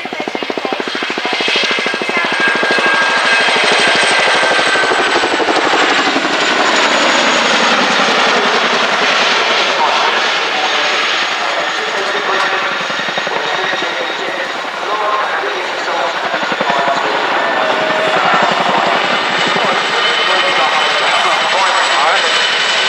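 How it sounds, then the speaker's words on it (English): A helicopter at the RIAT airshow at Fairford runs out to the right and pulls up into a pedal turn, its steady rotor and engine roar loud and sustained throughout, with a public-address commentator talking over it. "the aircraft will now be run out to the right and pull up into a pedal turn to the right"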